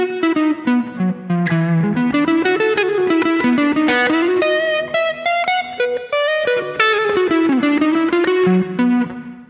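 Electric guitar played through an ART SGE multi-effects rack processor on its Jazz Hall setting with light distortion, a steady run of sustained picked notes and chords washed in hall reverb and chorus, loud and alone with no talking.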